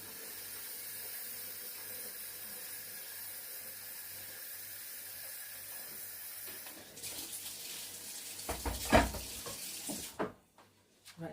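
Tap running warm water at a kitchen sink during birthday cake decorating, a steady hiss under a low background hum, turning louder and splashier toward the end before cutting off.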